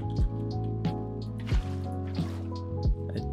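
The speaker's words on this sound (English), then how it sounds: "Okay, so it's dripping." Liquid drips in the Minecraft modpack Stoneblock 3 with Tinkers' Construct, a few sharp drops falling at irregular intervals over a steady low game hum.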